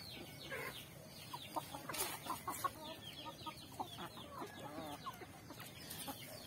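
A flock of large, grown chickens clucks steadily at close range, with soft overlapping calls and brief louder squawks scattered through a busy, continuous background of fowl noise.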